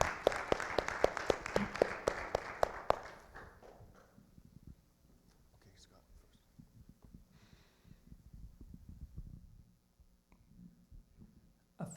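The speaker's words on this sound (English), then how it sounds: "she does need to be applauded" Lecture hall audience applauding the speaker's wife Becky, a dense burst of clapping for about three seconds that fades out, leaving scattered faint claps and room noise.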